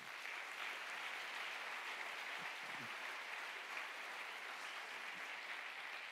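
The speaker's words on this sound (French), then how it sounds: "Et puis Carrie Deprick, que je vous propose d'applaudir." An audience at a climate communication conference applauds a political scientist being introduced, with steady, even clapping from a moderate crowd at a fairly low, distant level and no voices.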